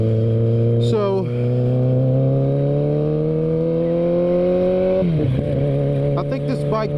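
A 2016 Kawasaki ZX14 motorcycle engine holds a steady drone while riding, with a brief dip and shift around a gear change, fairly loud and close with some wind.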